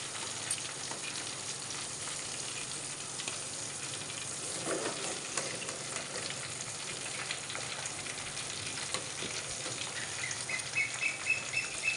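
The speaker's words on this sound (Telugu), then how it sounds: "దీంట్లోనే పోపు కూడా రెడీ చేసేస్తాం" Tempering spices frying in oil for drumstick chutney, a continuous faint crackling sizzle with light spattering, alone and close.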